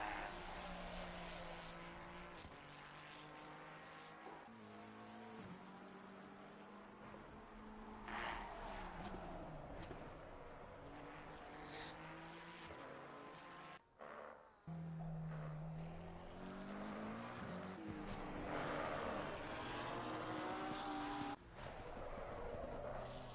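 A Ferrari race car in a sim racing game is pushed hard through a chicane, its engine note climbing and dropping repeatedly with gear changes and braking; the loud, continuous engine sound fills the whole stretch.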